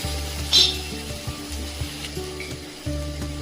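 Corn kernels hit hot ginger-garlic masala in a pan and sizzle steadily, with a brief bright spatter early on and soft stirring knocks underneath.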